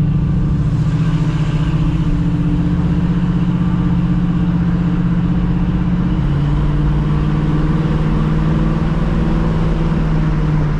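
A 1966 Ford Mustang GT with a cammed V8 idles loudly up close, a steady low rumbling drone with a slight shift in pitch partway through and no voices.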